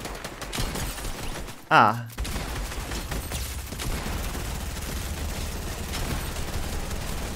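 Gunfire in a Fortnite free-for-all match on a custom hotel brawl map, with one sharp, loud shot standing out among fainter background game sounds while a player talks.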